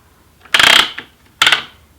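Two separate mechanical bursts of rattling, clicking hardware from a weaving loom being loosened and slid back during a tote bag weave, each about a quarter second long with a small tap between them, close and fairly loud.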